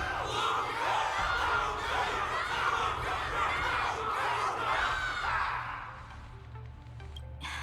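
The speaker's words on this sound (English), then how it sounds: "Can't you hear? Everyone's cheering for you, Luca!" Crowd cheering and clamoring in the video game Honkai: Star Rail, a dense, steady wall of many voices that stays loud throughout and thins out toward the end.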